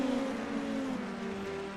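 An IndyNXT open-wheel race car in iRacing at Mount Fuji holds a steady, droning engine note with gently shifting pitch over a short stretch.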